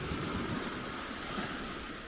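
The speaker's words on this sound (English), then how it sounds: "It's the ocean." Ocean waves wash onto a Thai island beach at Koh Lipe, a steady broad rush of surf with light wind noise, continuous and fairly near, and no one speaking.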